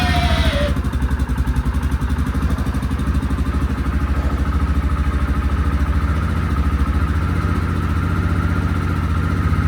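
An old Yamaha Kodiak ATV engine starts with a brief whine, catches and then runs at a steady, close, loud idle with a fast, even chugging pulse for several seconds.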